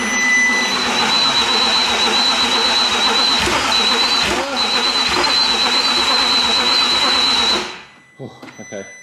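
A freshly rebuilt Audi R8 engine runs at a loud, steady roar with a high whine on top for several seconds, then cuts off abruptly, leaving a few faint clicks and knocks.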